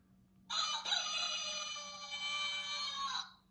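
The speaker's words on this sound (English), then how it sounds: "oh, that one was a rooster." A rooster crows one long, loud cock-a-doodle-doo lasting nearly three seconds, close by and alone against a quiet background.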